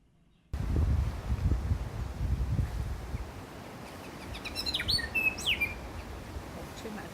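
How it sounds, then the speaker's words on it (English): Birds in a wildlife sanctuary on Tiritiri Matangi Island, New Zealand, give several bright chirps and whistled calls in the middle of the clip over rustling wind, fairly close but not loud, with no talking. "chirping a lot, calling out to each other, flying about."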